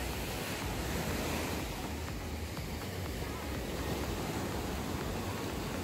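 Ocean waves break at a surf beach in Misawa, Japan, under choppy conditions, a continuous wash of surf roaring at a steady moderate level, with some wind noise.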